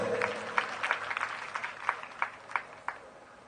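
A church congregation applauds during a sermon, a steady patter of clapping with a few sharper claps standing out at an even pace through the whole stretch.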